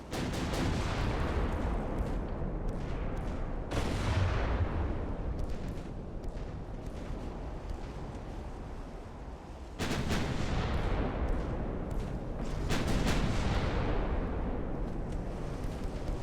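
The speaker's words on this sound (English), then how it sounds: "our guns fire pretty quickly, considering that we have the autoloader and all that stuff" Warship main guns firing in the naval video game Ultimate Admiral: Dreadnoughts, a rapid barrage of heavy booms and blasts rolling continuously, with sharp fresh volleys around four and ten seconds.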